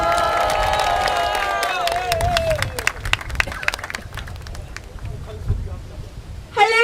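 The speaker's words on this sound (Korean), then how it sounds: "큰 박수와 힘찬 환호로 맞으시기 바랍니다" A crowd at a rally in Busan City Hall plaza, held to condemn the forced repatriation of North Korean defectors, breaks into clapping and cheering after a voice over loudspeakers. Dense, crackling applause fills the remaining seconds.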